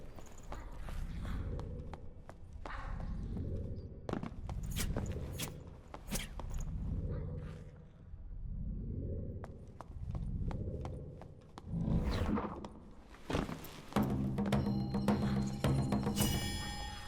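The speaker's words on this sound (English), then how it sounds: "I heard some footsteps" Footsteps in a fantasy online game played as a bard, a series of regular clopping steps that come and go in rhythmic groups with quiet gaps between, ending in brighter clattering effects.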